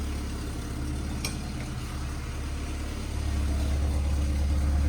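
A 1972 MG car idling as its newly installed clutch is tried out, a close, steady engine rumble whose low throb steps up in level partway through as the clutch engages.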